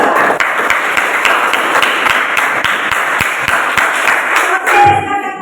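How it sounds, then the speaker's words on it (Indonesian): A classroom of students applauds for the second group, with dense, steady clapping that fills the room and carries on for several seconds before tapering off. "kita berikan aplaus dulu untuk kelompok"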